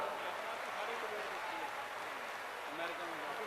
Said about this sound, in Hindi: आए हुए सभी बेटा बेटियों को 1 मिनट तक जोरदार ताली बजा के धन्यवाद दो